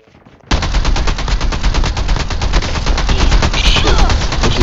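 Continuous rapid automatic gunfire in a first-person shooter video game, loud and dense, starting abruptly after a brief quiet moment and hammering on without pause.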